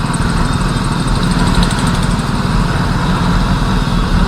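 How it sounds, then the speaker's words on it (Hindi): A group of Yamaha RX100 and RXZ two-stroke motorcycles riding along the Gurgaon–Faridabad road, producing a loud, steady, buzzing engine drone that stays close and constant throughout, with no talking. "भाई ये देखो बाइकर्स के ग्रुप चल रहा है, यामाहा चल रही है सारी"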